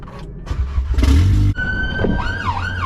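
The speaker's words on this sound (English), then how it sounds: "Typical sirens in South London, mate." A loud engine rumble cuts off, then a wailing police siren rises and falls nearby in a South London street, sweeping up and down in pitch.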